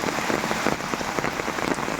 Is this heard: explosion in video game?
no